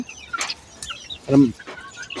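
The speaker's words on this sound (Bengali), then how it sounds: "দুইটা মোরগ একসাথে কিভাবে ঝগড়া করতেছে" Two roosters fighting, clucking and squawking in short, agitated bursts, one loud squawk standing out midway, with faint voices in the background.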